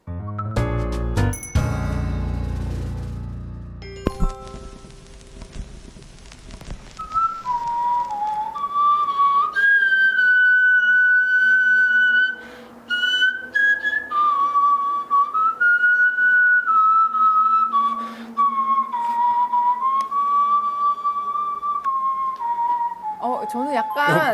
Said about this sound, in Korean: 악기로 이야기되는 디브의 밥의 플루트 소리라고 해요.